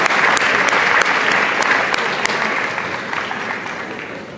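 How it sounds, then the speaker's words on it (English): Dense applause from the audience at an evening para dance sport championship, loud at first and gradually easing off, with a few distinct claps popping out of the steady roar. "Please give Judy a round of applause, our chair of adjudicators this evening as well."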